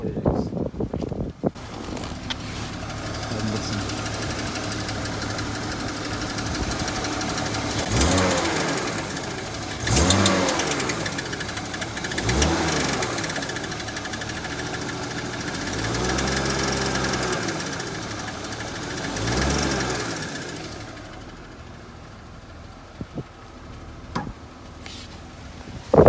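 A BMW E34 engine cranks with a repetitive mechanical ticking and knocking from the starter motor in several bursts, rising and falling over a rumbling drone before going quiet.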